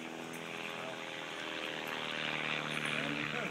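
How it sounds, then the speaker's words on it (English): A propeller airplane performs aerobatic rolls at an afternoon air show, its engine buzzing steadily and rising slightly in pitch as it manoeuvres, heard from a distance. "Another big aileron roll."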